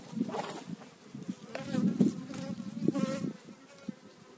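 Honey bees buzz loudly and close at a hive during a February inspection, with a dense, wavering drone and individual bees flying past.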